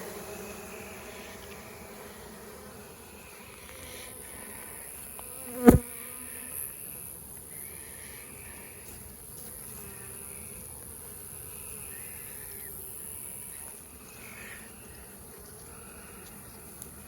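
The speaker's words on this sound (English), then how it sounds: "A lot of bees." A swarm of honeybees drones steadily at sundown, a continuous, even buzz throughout, broken once by a single sharp knock partway through.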